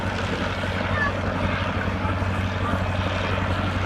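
A Fieseler Storch's engine drones steadily as the aircraft hangs almost motionless in a slow hover at the 2014 Abingdon air show, a continuous outdoor propeller hum heard from a distance, with a commentator's voice faintly mixed in.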